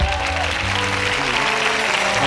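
A church congregation applauding during a sermon, dense sustained clapping filling the room at close range, with some voices mixed in.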